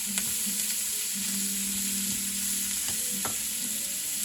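Shrimp sautéing in a pan over reduced heat, a steady close sizzle with a constant hiss, broken by a few brief scraping stirs, no voices.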